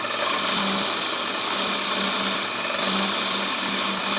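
A mini-lathe turning a 3/4 inch bar at about 1,000 RPM with a carbide cutting tool gives a steady, dense whirring hiss with a faint motor hum, unbroken and close.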